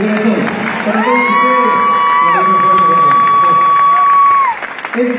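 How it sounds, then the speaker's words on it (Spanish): A crowd at a live music show cheers and claps loudly and continuously, with shouts rising over the din and a sustained sung note carrying through before the noise drops near the end. "un aplauso para él"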